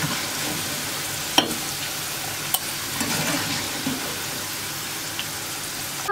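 Oil sizzles and crackles steadily as eggplant fries in a pan, with a few sharp clinks of a utensil against the pan.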